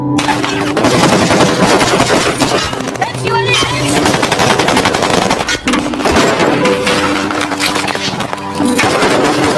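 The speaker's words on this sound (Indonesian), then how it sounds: "Di tengah perjalanan tiba-tiba mereka diserang oleh ISIS yang telah memblokade jalan dan baku tembak pun terjadi." Gunfire in an ambush firefight after fighters blocked a road, loud dense bursts of rapid shots and heavy booms layered over rumbling noise, continuous and close for the whole stretch.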